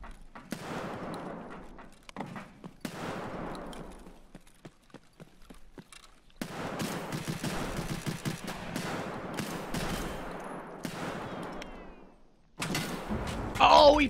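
Gunfire during a raid on the Customs map in Escape from Tarkov: bursts of rapid shots and clatter spread across the clip, with a louder burst near the end and people talking over it.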